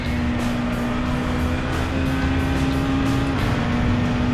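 A touring car engine revs hard in a racing video game, a continuous high-pitched roar with a steady tone that drops near the end, loud and without talk.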